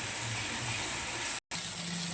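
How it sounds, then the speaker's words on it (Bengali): Spice masala of turmeric, Kashmiri chilli and salt sizzling in oil in a pan for guli kebab, a steady bright hiss with a brief cut partway through. "এবার মশলাটাকে ভালো করে কষিয়ে নেব"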